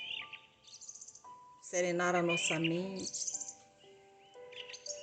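Songbirds chirp and trill steadily behind a calm voice speaking Portuguese, with a dense burst of overlapping calls in the middle and lighter tweets on either side.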